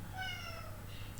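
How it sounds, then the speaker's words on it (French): A pet cat indoors gives a single drawn-out meow that falls in pitch, fairly close and clear, over a low steady hum. "ça c'est mon chat qui crie"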